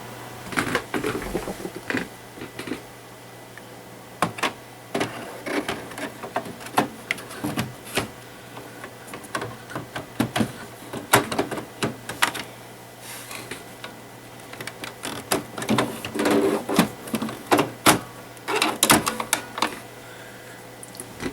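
An HP printer runs after its HP 950/951 printhead is reinstalled, giving off irregular mechanical clicks, ticks and whirring carriage movements. These are interspersed with brief louder clacks over a steady low hum, and no one speaks.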